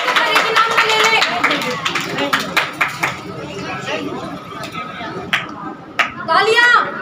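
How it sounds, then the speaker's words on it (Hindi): Audience applause at a school drawing and yoga event, scattered claps rising and falling among chatter and people talking nearby, with a few sharp individual claps standing out. "एक बार जोरदार तालियां।"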